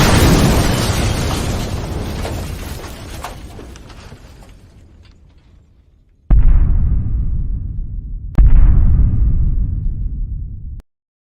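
Explosions from a played video: a long rumbling blast that slowly fades out, then two sudden loud booms a couple of seconds apart, each decaying into rumble before an abrupt cutoff.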